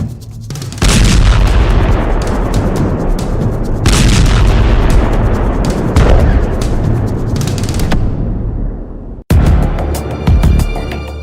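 Israeli airstrikes and artillery fire in southern Gaza: a continuous barrage of heavy booms and blasts, loud and dense with no pauses, cut off by a brief drop near the end before rumbling resumes.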